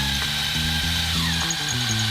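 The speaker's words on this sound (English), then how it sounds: "we're going to drill 2 holes here so that we can run some screws through there" Power drill boring mounting holes into an early Ford Bronco, a loud, close, steady whine with pitch that steps up and down as the trigger and load change, running continuously with no talking.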